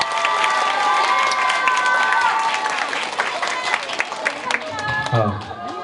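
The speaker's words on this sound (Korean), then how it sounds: "박수 하겠습니다." A school audience at an all-day reading event at a girls' high school applauds loudly, with clapping, cheering and excited shouts together, then the noise settles toward the end.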